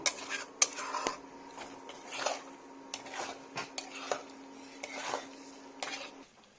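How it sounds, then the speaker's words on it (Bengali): A spoon scrapes and clinks against a pot of Afghani aloo dum with cashews in a yogurt gravy, giving repeated soft stirring strokes and metallic taps over a steady low hum. "একটু বাদে বাদে এটা নেড়ে দিতে হবে, নয়তো ধরে যাবে"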